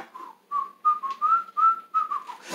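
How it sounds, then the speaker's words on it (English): People whistle a melody along to an early-1960s pop song, a bright run of short whistled notes in rhythmic phrases, clear and fairly close, with no voices during the whistling. "Come on, everybody, and whistle a few right now."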